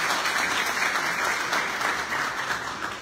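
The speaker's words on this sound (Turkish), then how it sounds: "Ve bu değerli çalışmalar için bir alkış da onun için rica ediyorum sizlerden." A gala audience in Selimpaşa breaks into sustained applause, a thick, even roar of many clapping hands filling the room for about three seconds.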